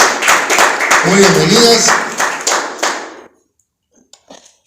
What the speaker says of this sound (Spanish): Un aplauso a Maribel.